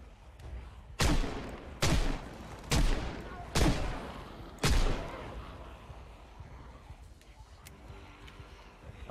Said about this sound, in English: I'm just loading my gun to kill you.